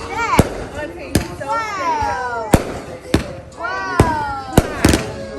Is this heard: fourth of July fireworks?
yes